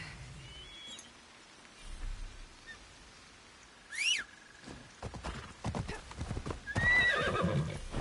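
Hooves clip-clop at a steady pace while a horse whinnies loudly, with a whooshing effect and faint game sounds around it, in the video game Assassin's Creed Shadows.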